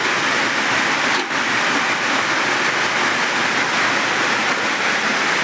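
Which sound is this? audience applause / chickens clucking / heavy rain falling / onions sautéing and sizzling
heavy rain falling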